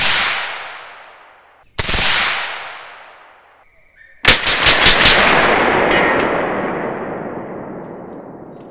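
Suppressed rifle fired at a 100-yard target: loud, close shots with sharp cracks, each followed by a long decaying wash of noise, including a rapid burst of several rounds near the end.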